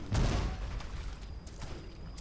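Explosion in the Shadow Warrior video game, a single booming blast at the start with a heavy low thump, followed by a rumbling decaying tail and faint debris crackles.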